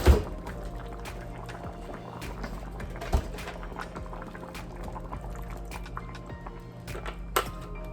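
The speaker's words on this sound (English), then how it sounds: "This is a good time for me to add nutritional yeast and some of the milk." Milk and nutritional yeast poured into a pot of chunky vegetable soup, a soft liquid pour with faint bubbling and a few light clinks, quiet and close, with no talk.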